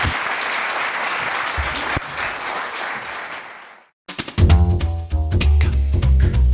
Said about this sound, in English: A big round of applause for our first group.